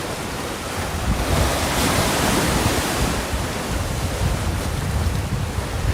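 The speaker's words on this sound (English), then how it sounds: "I love the sound of the oceans and waves too, Mac." Steady ocean waves breaking at Sunset Cliffs in San Diego, a continuous broadband roar of surf with some wind buffeting the microphone, loud and unbroken throughout with no voices.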